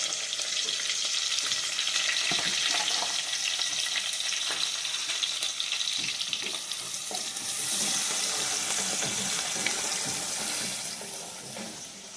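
Onions and green chillies fry in a hot pan with a continuous, close crackling sizzle, punctuated by occasional stirring scrapes, and no one speaks.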